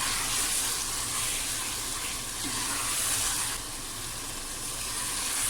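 Eggplant frying in a pan with turmeric powder while being stirred continuously, giving a steady, dense sizzle throughout with no pauses.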